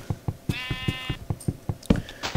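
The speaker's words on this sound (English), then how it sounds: "That sheep just ate that grass." A Minecraft sheep gives a single wavering bleat over a steady run of soft, rhythmic blocky footsteps, clear and close.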